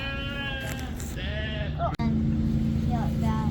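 Several sheep bleat loudly and repeatedly, overlapping one another over a steady background hum, with a brief knock partway through.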